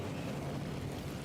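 A fiery Incendio spell is cast in Hogwarts Legacy, heard as a dense, steady roaring rush of flame that fills the short moment at an even loudness.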